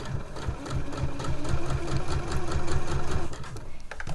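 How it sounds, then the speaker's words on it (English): A sewing machine runs continuously at close range, humming and clattering evenly as it retraces a line of stitching on a zip tote pocket. "I'll just come back round and retrace my stitches"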